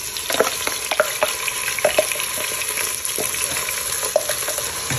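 Masala sizzling and frying in hot oil with bay leaf, star anise, cardamom and cinnamon for beef rendang, a steady close crackle broken by repeated scrapes of stirring.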